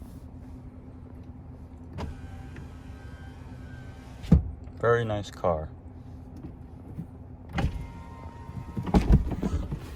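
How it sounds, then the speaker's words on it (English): Power mirrors on a 2020 Mazda CX-30 whir briefly in short motor bursts close by, interleaved with a few clicks and thunks, while someone talks over a low steady hum. "The mirrors are also power adjustable."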